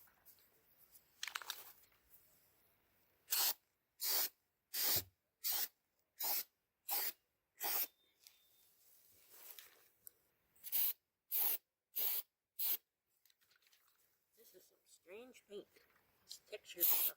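Textured spray paint goes onto a 3D-printed bonsai pot in a string of about a dozen short, evenly spaced hissing bursts from the aerosol can, close and crisp, with quiet gaps and a little soft handling noise around them.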